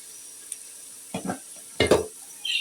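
Ginger-garlic paste dropped into a pan of fried onions and onion greens, with two short bursts of sizzling and stirring over a quiet background and a light clink near the start.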